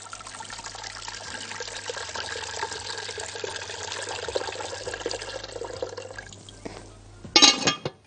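Tap water runs steadily into a cooking pot set to heat for half-boiling cauliflower, a continuous trickling stream that shifts near the end with a brief louder splash.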